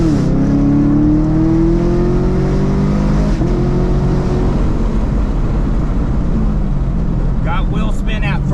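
A supercharged Chevrolet Camaro SS pulls hard at wide open throttle, its engine droning loud and rising in pitch, briefly dropping at a shift before climbing again, with a faint chirp of wheel spin late in the run.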